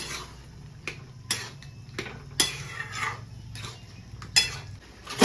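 A spoon scrapes and clinks against a cooking pot while chana dal curry is stirred, giving irregular metallic taps and scrapes at moderate level with no talk.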